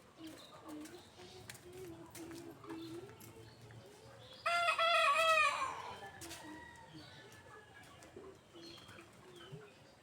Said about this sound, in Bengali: কত মুরগি।